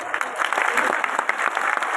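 Audience at a religious gathering in Jaipur claps steadily in a dense, loud wash of applause that lasts throughout.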